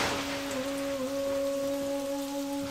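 Steady rain falls in a continuous hiss with a low tonal hum beneath it, fairly even and distant, with no distinct thunderclap standing out.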